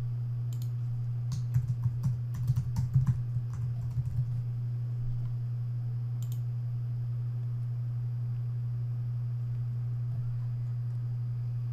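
Quick bursts of keystrokes on a computer keyboard as a username and password are entered, soft clicking for a few seconds over a constant low electrical hum, then a couple of isolated taps.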